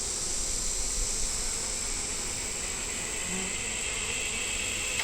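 Honeybees buzz inside an open hive box of brood frames, a dense, even drone filling the whole stretch at close range, with no voices.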